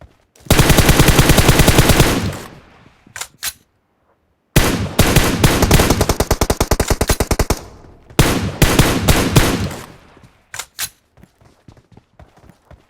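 Automatic gunfire in the video game PUBG Mobile, loud rapid bursts several seconds long separated by short pauses, then a few scattered single shots.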